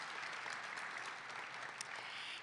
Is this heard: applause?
yes